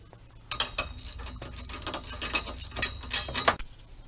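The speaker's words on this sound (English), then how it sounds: "Take the bolts loose on both sides." Ratchet wrench loosening hinge support bolts on a vehicle's extended range hood, quick bursts of clicking ratchet strokes with short pauses between them, close and clear, no talk.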